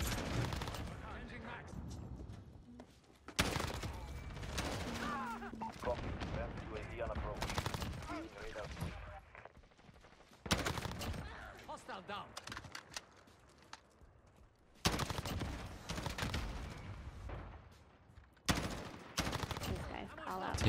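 M4 rifle fire in a first-person shooter video game, loud repeated bursts of automatic gunfire separated by quieter gaps, with a player talking over parts of the action.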